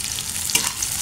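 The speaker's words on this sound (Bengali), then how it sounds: "একটু ভেজে নেব।" Washed green chillies frying in hot mustard oil, a close, steady crackling sizzle with a brief louder burst in the middle.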